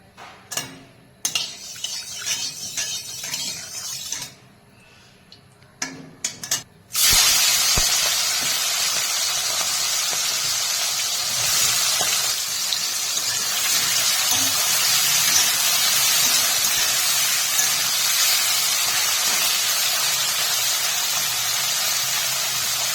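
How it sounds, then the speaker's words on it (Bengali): Shrimp frying in hot mustard oil in a wok, a loud, steady hissing sizzle that bursts in suddenly after some quieter kitchen clatter and then holds near and constant, with no talking. "কড়াইয়ে সরষার তেল দিয়ে তেল গরম হয়ে গেলে চিংড়ি মাছ ভাজবো"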